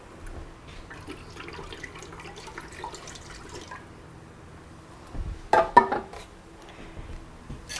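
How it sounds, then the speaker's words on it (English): Two cans of plain chicken broth are poured into a pot for Brunswick stew: after a quiet stretch with faint clinks, a short, close splashing gush of liquid rises and fades. "we're going to pour in 2 cans of just plain chicken broth"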